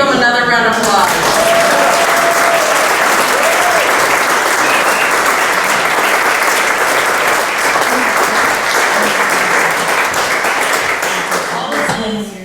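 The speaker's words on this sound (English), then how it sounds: "Let's give them another round of applause." Sustained applause from an awards event audience fills the room, steady and loud for about twelve seconds before it tapers off at the end.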